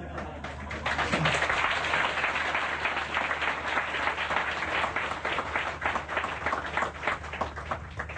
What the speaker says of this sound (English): And you clap so loud.